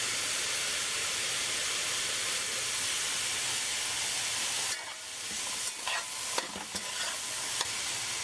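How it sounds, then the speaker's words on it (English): Callaloo ingredients with hot pepper frying in a pot, a dense continuous sizzle and hiss that drops sharply midway as they are stirred, followed by scattered crackles and pops. "And just let that fry for about 2 minutes"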